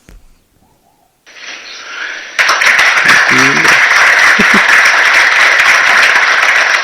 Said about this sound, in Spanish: Y todos le aplauden.